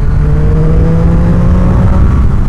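A Triumph Daytona 675R motorcycle pulls hard in fourth gear from around 6,000 rpm, its engine a loud, close, steady drone with a rising tone as the throttle opens.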